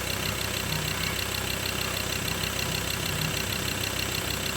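Mazda BT-50 3.2 five-cylinder diesel pickup with automatic transmission, running after repair, holds a steady, even idle with a constant low rumble and a light knocking texture, close and alone with no talking.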